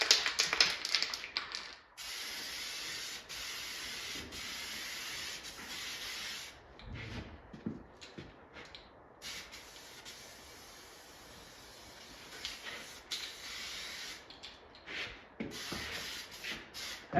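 Aerosol spray paint hissing in bursts over an arcade control panel being restored, laying on light coats; several steady sprays of a few seconds each with short pauses between, fairly close and alone.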